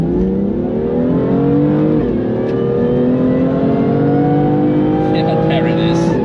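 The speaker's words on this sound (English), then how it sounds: "I'm excited to hear the diff whine that we already can hear." BMW M2 driven on the Nürburgring: a loud, steady engine drone with a thin whining tone that climbs with speed, one brief dip around two seconds, then a faint higher squeal near the end.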